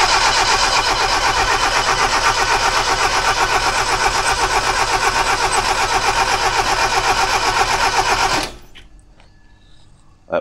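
A 1971 Toyota Celica TA22 engine cranking over repeatedly while testing a fuel pump, with a rapid, rhythmic chugging for about eight seconds, then cutting off abruptly into near silence.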